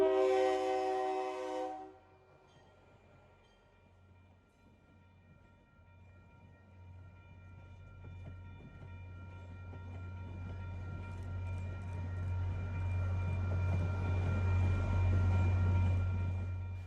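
An MBTA commuter train horn sounds briefly at the start, then a low diesel rumble and rolling wheel noise build steadily as the train approaches and passes close by, growing loud toward the end.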